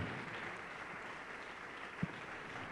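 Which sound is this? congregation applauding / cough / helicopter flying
congregation applauding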